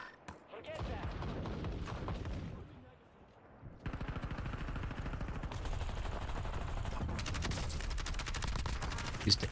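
Gunfire in Call of Duty Warzone rattles through in rapid automatic bursts, pausing briefly before resuming as dense sustained shooting with a few sharper cracks near the end, under players talking.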